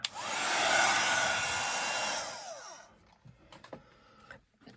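A craft heat tool blows hot air to dry and heat-set paint, a loud, close, steady whooshing hum lasting about two and a half seconds before cutting off, followed by faint handling noises.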